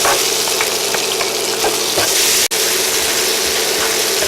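Ginger and fresh chili peppers fry loudly in hot oil in a pan, a dense, close, continuous sizzle with a brief break in the middle, and no talking.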